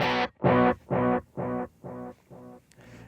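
Electric guitar note repeating in a dotted-eighth delay on a high-gain tone, seven evenly spaced repeats fading gradually, heavily distorted and up close with no talking.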